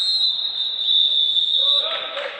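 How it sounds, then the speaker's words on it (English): A referee's whistle ends the first half of a futsal match in an indoor arena: one long, shrill, sustained blast close by, followed by crowd and court noise as it stops. "The referee's whistle signals the end of the first half."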